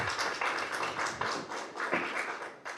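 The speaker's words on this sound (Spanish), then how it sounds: "Un fuerte aplauso." Light applause from a small audience at a press conference for journalists, a patter of scattered hand claps with no talk over it.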